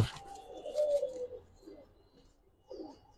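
A pigeon gives soft, low coos close by in a quiet space, a short murmured call followed by a brief pause and another faint coo.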